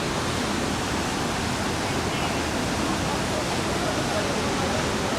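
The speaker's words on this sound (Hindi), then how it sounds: "ये है सरस्वती नदी।" The Saraswati river rushes past at Mana village in the Himalayas, a loud, dense, unbroken roar of fast water close by.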